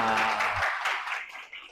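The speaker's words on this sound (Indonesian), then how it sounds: "Tepuk tangan bagi semua" A short burst of audience clapping in a university teaching session, starting loud over a fading voice and then thinning out to a few scattered claps.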